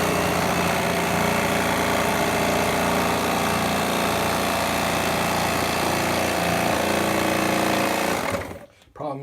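A power saw blade bites into clamped scrap wood, giving a dense, continuous roaring buzz for several seconds that cuts out sharply near the end.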